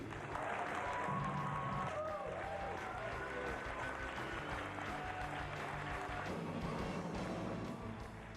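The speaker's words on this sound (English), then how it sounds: "A nice warm round of applause for gentlemen who could not be with us today." A crowded hall gives faint, steady applause for honorees who could not attend, with music and voices mixed in underneath throughout.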